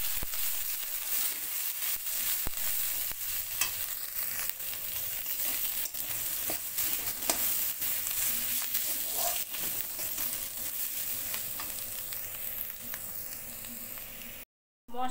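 Onion, ginger-garlic paste, dried chili powder and turmeric sautéing in a pan for a prawn malai curry, with a steady close sizzle and occasional stirring scrapes and clicks running throughout, cutting off briefly near the end.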